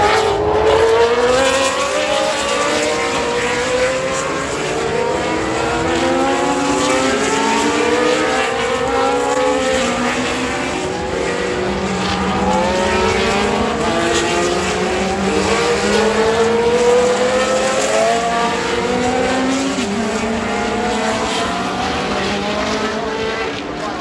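1970s Formula One race cars without mufflers screaming past on the corkscrew, a continuous loud howl of high-revving engines with rising and falling pitch sweeps as cars pass and downshift, overlapping one another.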